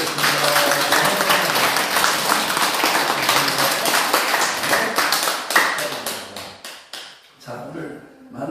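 A church congregation claps in warm, dense applause during a Sunday worship service, then the clapping thins into scattered claps and fades near the end.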